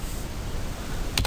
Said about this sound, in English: now let's type